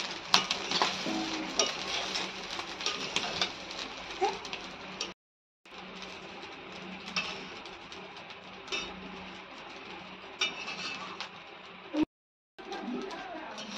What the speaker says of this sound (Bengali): পোলাও বানানোর জন্য চালটা খুব ভালোভাবে ভাজা হয়ে গেছে